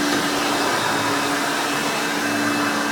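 A Hoover Elite 5.0 Limited Edition U4601-900 upright vacuum runs with its brush roll spinning, giving a loud, steady, unbroken roar that stays close and even throughout.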